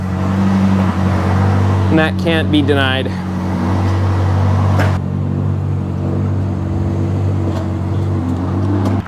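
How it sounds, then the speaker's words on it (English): A McLaren 650S with a flat-plane-crank V8 idles and hums steadily up close, with a brief rising rev blip partway through, while someone talks over it. "Still a flat plane crank V8,"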